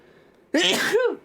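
A single close sneeze bursts out sharply after a near-silent moment, loud and brief with a voiced tail, from one of two people playing Minecraft together.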